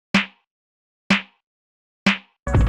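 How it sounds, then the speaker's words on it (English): Layered clap drum sample, a clap stacked with a snare, struck three times at an even one-second pulse, each hit sharp, close and dry with a fast decay, then a brief burst of denser sound at the end. "the clap, which is actually 2 layers, and it sounds like this"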